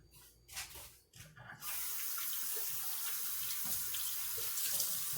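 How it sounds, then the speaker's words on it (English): Kitchen tap opened to a steady loud stream of running water after a few soft handling sounds, hands being washed with soap underneath, no one speaking. "Wash my hands with some soap, like I mentioned, because I don't want to get any salmonella"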